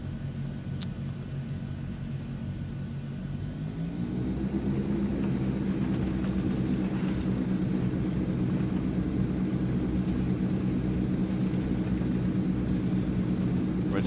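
A Transall C160 twin-turboprop cargo plane in Microsoft Flight Simulator drones steadily with a whining turbine tone. Partway through, the engines spool up and the drone rises in pitch and loudness, then holds a constant roar.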